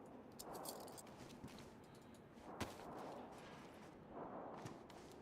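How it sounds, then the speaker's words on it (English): Distant gunfire in the video game DayZ on the Chernarus map, a few faint cracking shots spaced apart with low rumbling echoes between them. "Different gunfire."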